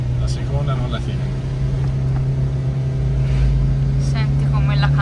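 Suzuki Jimny engine straining uphill in second gear, a steady low droning hum inside the car that holds level and grows slightly heavier toward the end, with a voice speaking briefly over it.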